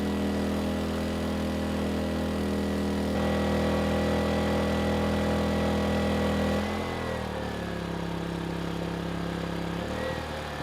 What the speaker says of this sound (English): let the engine cool down for a couple minutes, and then we'll shut it down